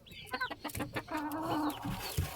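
Chickens clucking close by in a farmyard, a run of short irregular clucks and squawks with some overlapping calls.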